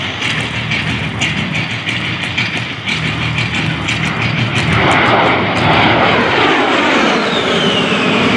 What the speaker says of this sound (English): repositioning his aircraft to perform a level 360-degree IG turn